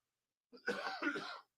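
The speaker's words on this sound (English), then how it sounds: "You gave me a clean cough." A single rough cough or throat clear, close and brief, lasting under a second in otherwise quiet surroundings.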